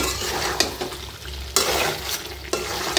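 Beef stir-fried in a pan with frying sizzle under repeated scraping stirs of a spatula, a few sharper strokes standing out, close and steady without speech.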